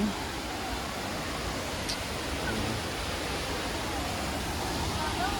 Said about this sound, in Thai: เสียง น้ำตกดังมา